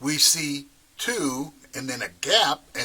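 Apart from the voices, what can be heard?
No everyday noise stands out behind the speech.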